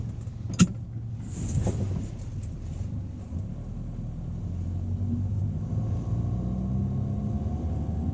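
A Classic Mini drives on the road while its low front-end rumble is checked. A steady, droning engine and road rumble fills the cabin throughout, with a sharp click early on and light rattles over it.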